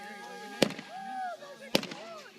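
Two sharp 4th of July firework bangs, one near the start and one past the middle, each trailing crackle and a fading whistle, with people chatting between bursts.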